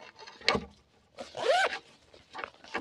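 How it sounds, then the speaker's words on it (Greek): Zipper of a bag pocket pulled open in a few short strokes, one quick rasp followed by a longer, louder scraping pull and a softer final tug, close and alone. "Και έχει διπλό φερμουάρ."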